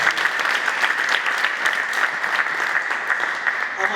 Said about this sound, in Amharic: ዛሬ የሚያምን ሰው ማለት አጨብጭቡ